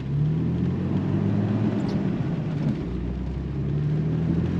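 A 2006 Jeep on snow tires drives in four-wheel-drive high over snow, a steady low engine drone and tire rumble, loud and close, with no talking.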